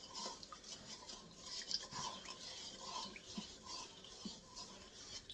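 A wooden spoon stirs hot liquid for no-knead bread, making faint, steady scraping and swishing strokes against the bowl in a soft repeating rhythm.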